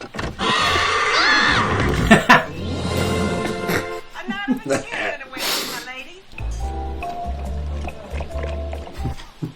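A horse whinnies loudly near the start, followed by splashing water and people talking.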